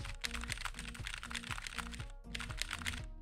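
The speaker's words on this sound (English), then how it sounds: "I can hear the keyboard and other people can too." Rapid, steady typing on a computer keyboard during a rhythm game session, the clustered key clacks close and continuous, with a faint pause near the end and no talking.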